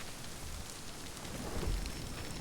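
Rain falls steadily in Assassin's Creed III Remastered, a dense, even hiss of downpour with a low rumble swelling briefly toward the end.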